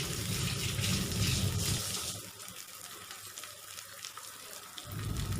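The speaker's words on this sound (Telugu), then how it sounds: "ఇట్లా వేసుకొని కొంచెం సేపు వేగనివ్వాలి" An egg fries with drumstick leaves in a pan, giving a close, steady hiss. The sizzle is louder at first, softens in the middle and then rises again. No one speaks.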